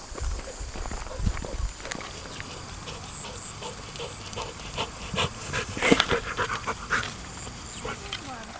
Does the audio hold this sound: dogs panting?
yes